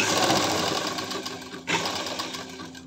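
A sewing machine stitches lining to fabric on an angrakha top, a steady close whirring run with a brief dip in the middle before it carries on.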